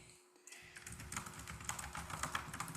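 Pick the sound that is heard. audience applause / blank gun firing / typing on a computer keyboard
typing on a computer keyboard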